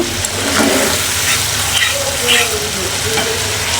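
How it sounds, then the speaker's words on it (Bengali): Fried onions sauté with chili, salt, cumin and coriander in a hot pan, making a loud, close, continuous sizzle with scraping stirs and brief bursts of spitting. "তো আর একটু কষিয়ে নেবো, তারপর ডিমগুলো দিয়ে দেবো।"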